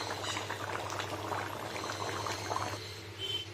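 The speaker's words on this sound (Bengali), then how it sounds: "কাঁকড়ার এই যে ঝোল আমার টকবক করে ফুটছে" Crab curry gravy boiling in a pot, a steady close bubbling and popping simmer that runs throughout with no voices.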